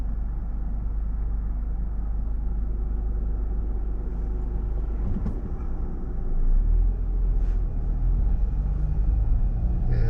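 A car rolls through the streets of Fort Dodge, Iowa, its steady low engine and road rumble filling the cabin, with a slight swell in the rumble partway through.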